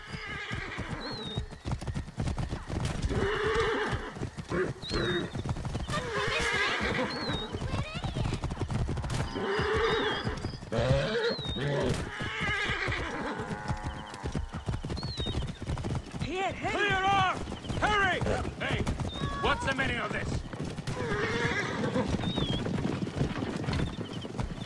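Horse neighing and whinnying repeatedly alongside steady clip-clopping hooves in the Assassin's Creed Origins video game, with game music, shouting voices and other ambient action mixed in throughout.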